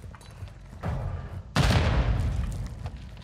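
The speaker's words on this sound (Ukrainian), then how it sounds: "Граната." A grenade goes off in the Call of Duty Modern Warfare II Warzone DMZ video game, a sudden loud blast with a long rumbling decay, preceded by a softer thud of gunfire or impact.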